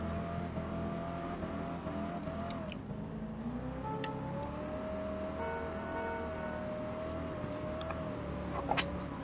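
A modified drag car in the video game Gran Turismo 7 idles with a loud, raspy exhaust, the pitch rising and settling as it revs slightly, steady and close.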